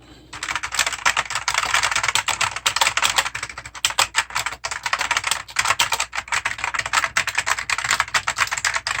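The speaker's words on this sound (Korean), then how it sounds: "게이밍 키보드로 나온 일렉트로맨의 키보드입니다" Rapid, close typing on a mechanical gaming keyboard with Alps-style switches gives a dense run of sharp, tough-sounding key clicks, steady and alone with no talking.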